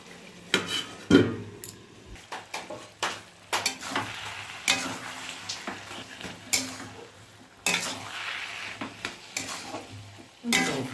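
Fried fish head added to bottle gourd simmering in a pan: soft sizzling with irregular scraping and clinking of a spatula on metal, close but fairly quiet, with no talking.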